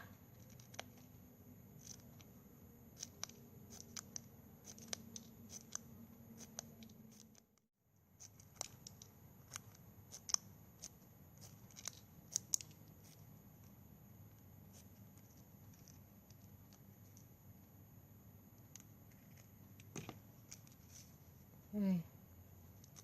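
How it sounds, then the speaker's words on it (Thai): Scissors snip plastic drinking straws into a zigzag edge while making hanging straw flowers: a run of quick, sharp, close cuts in irregular rhythm over a low steady background hum. "แบบนี้ซอยเป็นฟันปลานะคะ"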